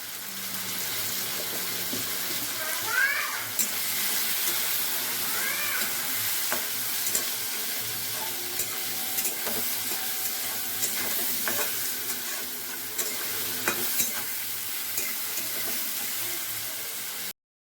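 A pan of frying for katla fish curry: a continuous, fairly loud sizzle with repeated spatula scrapes and clinks throughout, plus a few brief squeaky scraping sounds, and no voices.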